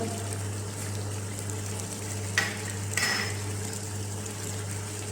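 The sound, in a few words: tomatoes frying in a pan with spices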